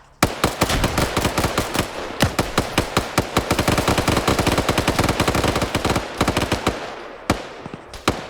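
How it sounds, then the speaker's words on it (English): Gunfire in the military shooter game Arma 3: dense bursts of automatic rifle fire crack repeatedly and loudly, near and continuous for several seconds, thinning to a few spaced shots at the end. "Sam, I think, just took a shot"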